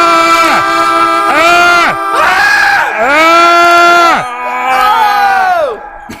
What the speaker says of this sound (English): Listen to the crowd go wild.